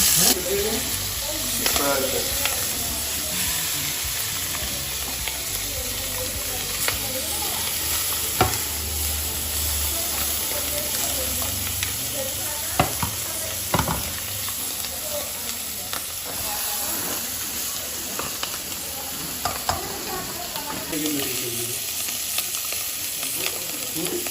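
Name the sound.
chicken searing in a pot on a very high flame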